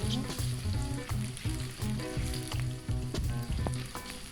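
Shrimp and meatballs fry with spices in a pan for Bandung-style mie tek tek, a steady crackling sizzle with rhythmic stirring scrapes, close and fairly quiet.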